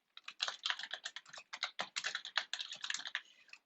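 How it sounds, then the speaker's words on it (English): Fast, continuous typing on a computer keyboard while writing a paper in Microsoft Word, crisp clicky keystrokes in quick irregular bursts, close and fairly quiet with no voices. "I'll begin to type my paper."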